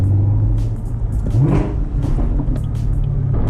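A turbocharged McLaren pulls hard under acceleration, its engine a loud, sustained low roar that rises in pitch through a short burst, heard up close from inside the car.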